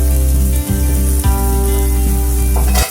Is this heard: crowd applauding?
no